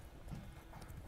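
Horse hooves galloping in The Witcher 3 video game, quiet muffled rhythmic thuds of clip-clopping hoofbeats under a soft low rumble.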